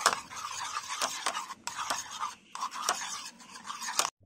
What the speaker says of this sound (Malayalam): ഇനി ഇത് നന്നായിട്ട് മിക്സ് ചെയ്യണം.